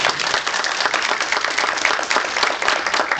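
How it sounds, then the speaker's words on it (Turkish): Ceremony audience applauding in a hall, dense steady clapping from many people, fairly loud and sustained with no talking over it. "Bir özel alkış"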